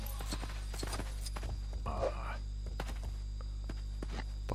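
Hoof steps sound as a cow is ridden in the LEGO Jurassic World video game, quiet irregular clopping thuds over a steady low hum, with a voice speaking briefly in between.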